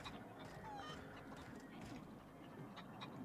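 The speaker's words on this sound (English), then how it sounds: "I'm hearing chickens." Chickens cluck softly in the sci-fi video game The Outer Worlds, faint fowl calls scattered over a low, steady ambient backdrop.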